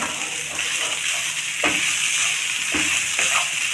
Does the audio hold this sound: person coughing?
no